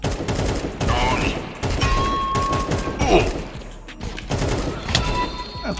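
Rapid bursts of Counter-Strike gunfire crackle in quick volleys, loud and close, with players talking over the shooting.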